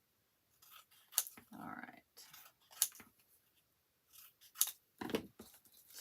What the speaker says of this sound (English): I'm just going to trim these a little bit.